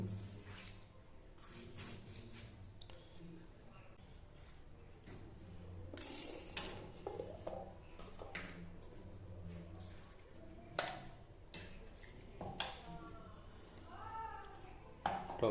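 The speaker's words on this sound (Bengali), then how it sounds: "টমেটোটা প্রথমে কেটে নিই" A knife cuts a tomato on a board in a home kitchen, a series of quiet, irregular taps and slices heard up close with soft handling noises between them.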